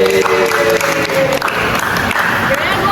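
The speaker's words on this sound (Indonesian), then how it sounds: "coba tepuk tangan dong." Audience applause from a school drama class performance, steady clapping throughout under overlapping voices and talk.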